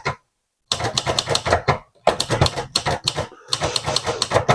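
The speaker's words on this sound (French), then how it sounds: "on peut commencer à taper ce que l'on veut." Rapid bursts of key strikes on a Hermes Baby S manual typewriter, close and loud, typed in several quick runs separated by short pauses, with no talking.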